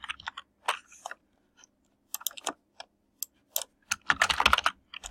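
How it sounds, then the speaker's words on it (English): Someone types a quiz question on a computer keyboard in short irregular bursts of clicking keys, close and moderately loud, with pauses between words and a denser flurry near the end. "You can just easily type in your question and put in the available answers."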